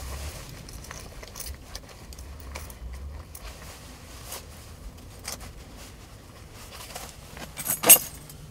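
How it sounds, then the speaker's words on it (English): Keys jingle and clatter close by against a low rustling background during a Georgia turkey hunt, ending in a sharp metallic rattle as they hit the ground. "keys hitting the ground while he's digging around for his shotgun shells"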